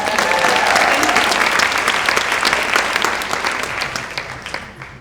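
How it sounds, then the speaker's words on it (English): Sustained audience applause at a conference welcome session, dense and loud from the start, then gradually thinning and fading toward the end. "One more round of applause for Advent."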